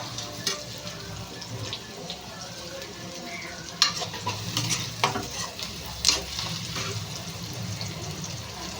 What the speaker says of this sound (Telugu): ఈ ఉల్లిపాయలు అయితే వేగిపోతున్నాయి